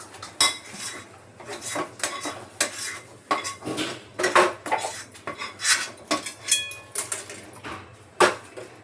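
A serving spoon scrapes and clatters against a kadhai as fried okra is scooped out, giving a loud, close run of repeated metallic scrapes and clinks over about nine seconds with no talking.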